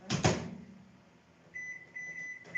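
A home microwave oven is started. A couple of quick clunks from the door or keypad are followed by a quiet hum and a series of steady electronic beeps, fairly close, with no talk.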